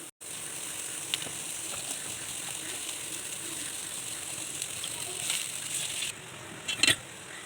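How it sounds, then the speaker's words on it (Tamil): A steady bubbling, sizzling hiss of water at a rolling boil in a pot, close and continuous, with a few brief clinks near the end. "தண்ணி நல்லா கொதி வந்துருச்சு"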